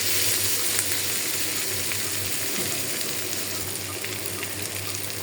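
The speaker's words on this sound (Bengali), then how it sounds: "শুটকিটা একটু ভাজা হয়ে গেছে। এখন আমি এখানে আছে বেগুন আর একটা কাঁচকল দিয়েছি, একসাথে একটু ভেজে তারপরে আমি মশলা দেব।" Salted dried hilsa sizzling in hot oil in a pan with eggplant and green banana, a steady dense crackle and hiss that runs unbroken and fairly loud throughout, with no voices.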